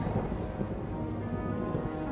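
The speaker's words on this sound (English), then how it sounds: "Ariel goes to the ship and makes a tempest with wind and rain" A stormy tempest of wind and rain roars steadily, a dense, low rumble with a continuous rushing wash and no voices or distinct breaks.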